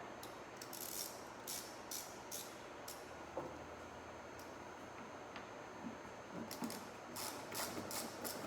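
An 8mm socket ratchet working on the bumper of a BMW X3: two bursts of quick, rhythmic clicking, one early and one late, quiet and close, with a faint background hiss and no talk.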